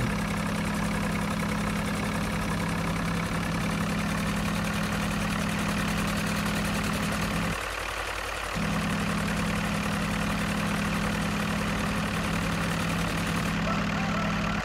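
A tractor engine idles steadily in Farming Simulator 2013, a loud, even, low mechanical drone with a brief dip partway through before the running sound resumes.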